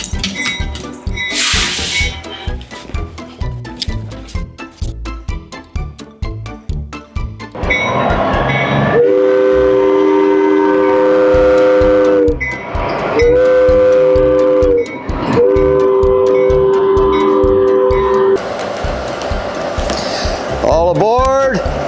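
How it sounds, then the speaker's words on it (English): A Northern Central Railway train rolls past with rhythmic clattering of the cars, then sounds several long, loud horn blasts separated by short gaps, with talk heard nearby. "Let's go hop on the Northern Central Railway."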